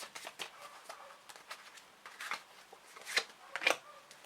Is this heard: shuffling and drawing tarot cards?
yes